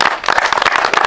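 Short burst of audience clapping for a handler at a Deutscher Drahthaar hunting dog working test, a brief patter of hands.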